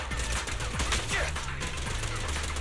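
Rapid gunfire from Billy, a gunslinging character in Zenless Zone Zero, a dense burst of quick shots over game effects and a low background hum.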